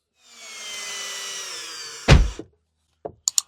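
A cordless drill whirs steadily, then thumps and clicks as it drives screws into the cabin air filter cover of a 2018 Chevrolet Silverado, followed by a few brief taps, close and loud.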